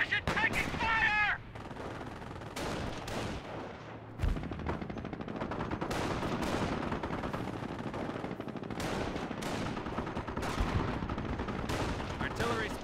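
Battle in the Company of Heroes video game: dense machine-gun bursts and rifle shots crackle almost continuously, loud and close, with distant explosions, while soldiers' voices shout beneath the firing.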